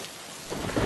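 Heavy rain pours in a cartoon, a short, dense hiss of falling water with a low rumble swelling toward the end of the brief moment.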